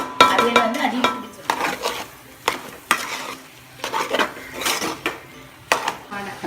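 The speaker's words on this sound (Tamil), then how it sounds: "இனி நான் கரண்டி வச்சுக்கிண்டுவேன்" A ladle stirs aviyal, a Nagercoil-style mixed vegetable dish, in a pot. Scraping, clinking strokes come in uneven bursts with faint sizzling between them, close and fairly loud.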